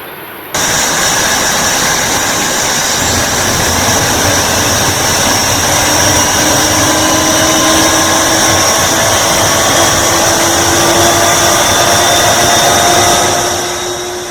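A simulated Boeing 737 jet engine in a flight simulator spools up with a loud, steady roar and rising whine that builds over several seconds and holds at a high, sustained pitch.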